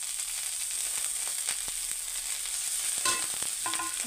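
Ground coriander, turmeric and chili powder with a paste of ground spices sizzle steadily in hot oil for a broccoli dish, with sharp scraping stirs and utensil clinks up close.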